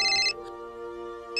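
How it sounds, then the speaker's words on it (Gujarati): A mobile phone ringtone rings loudly and close in two bright bursts separated by a short pause, with a low steady hum underneath and no talking. "મારી મમ્મીનો ફોન આવે છે"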